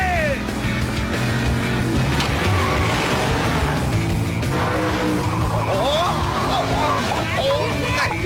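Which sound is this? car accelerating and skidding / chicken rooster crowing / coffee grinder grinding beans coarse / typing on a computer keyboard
car accelerating and skidding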